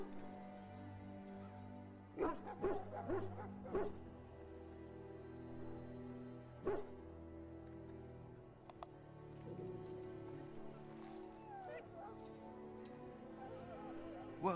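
A dog in a fantasy video game gives a few short yips and whimpers amid a low droning musical backdrop, fairly faint and scattered.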